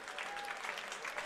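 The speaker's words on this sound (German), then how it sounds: "Und es gibt hier den nächsten Applaus" Football spectators applaud at an amateur match between SV Eintracht Trier 05 and BFV Hassia Bingen, a steady patter of many hands clapping at a moderate distance, continuous through the short stretch with a faint tone running beneath.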